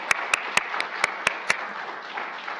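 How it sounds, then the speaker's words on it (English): A few sparse hand claps ring out at a health talk on living with diabetes, brief and fairly close, thinning out after a second or so with no voices over them. "let's give another round of applause for Dr."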